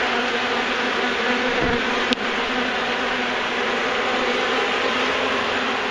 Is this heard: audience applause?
no